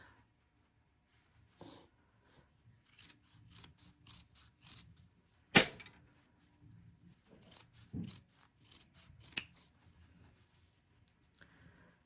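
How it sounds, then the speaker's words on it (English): Scissors snip through fabric to trim a seam allowance on a sewn pocket: quiet, sparse cuts spread over several seconds, with one sharper, louder snip, in an otherwise quiet room. "I'm going to leave my interfaced one alone, and I'm going to cut the other one at half its width"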